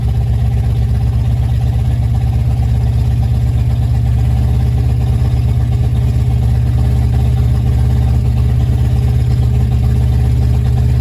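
A car engine running loud and close, a steady low droning hum that holds constant without clear revving swells.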